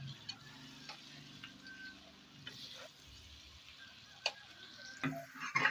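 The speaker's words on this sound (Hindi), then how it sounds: "सब्जियों को अच्छे तरीके से मिक्स कर लेंगे।" A spoon stirs capsicum, cabbage and other vegetables for vegetable rice in a pan, producing soft scraping and light sizzling with a few sharper clicks toward the end.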